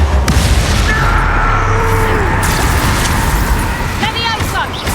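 A Confringo fire spell explodes in the Hogwarts Legacy video game, a deep booming blast that rolls on under steady game noise and voices, with a brief higher magical flourish near the end.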